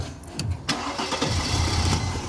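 A car engine cranks and catches after a battery replacement at the 24 Hours of Nürburgring, a short burst of starter noise followed by a steady, close low rumble that continues to the end.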